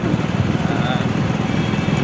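A train engine at Ongole drones loudly and steadily close by, chugging, with people talking over the rumble.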